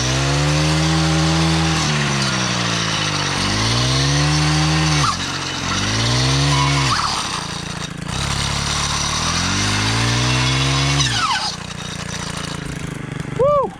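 A loud two-stroke weed eater fitted with a metal blade revs up and down repeatedly, its pitch sagging as the blade bites into brush, then winding back up.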